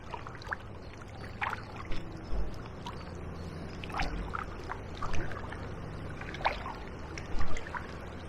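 Canoe paddle strokes splashing and dipping at irregular intervals on the River Medway, heading downstream toward a weir, with water trickling and lapping over a low steady background rumble.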